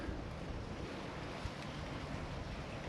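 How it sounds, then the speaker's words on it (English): Steady wind blowing across an open lakeside spot at Warrina Lakes, Innisfail, a continuous broadband rush with faint water lapping beneath, no voices. "There's a lot of wind at times"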